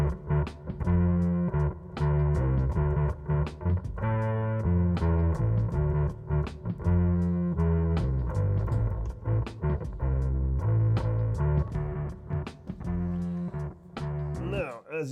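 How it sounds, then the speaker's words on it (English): A distorted electric bass line played through a Kemper amp profiler with distortion and pitch-shifter effects, sustained and loud over a looping drum beat, continuous for the whole stretch with no talking. "I left the distortion on the bass, which didn't sound great"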